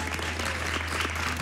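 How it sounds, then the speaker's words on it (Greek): Studio audience applause for the actors on a New Year's morning TV show, a dense, steady burst of clapping at moderate distance with a low constant hum underneath, no voices over it. "Θέλω τώρα το πιο δυνατό σας χειροκρότημα"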